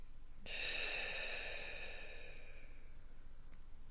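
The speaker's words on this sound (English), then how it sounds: "twinning the deep breathing with the mindfulness practice" A slow, deep breath drawn during a mindfulness meditation practice, one long airy inhale or exhale that swells and then fades gradually over a few seconds, close and fairly quiet with no talking.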